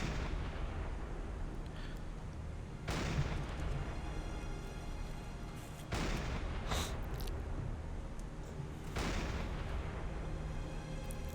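Naval gunfire in Silent Hunter 5, shots aimed at a ship's superstructure, lands as three heavy booming reports several seconds apart, each sharp crack trailing into a long rumble over a constant low engine and sea drone.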